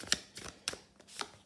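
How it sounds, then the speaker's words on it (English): Tarot and oracle cards are shuffled by hand in four or five short, crisp riffling bursts with brief gaps between them, close and fairly quiet with no voice. "I'm going to shuffle a lot of cards."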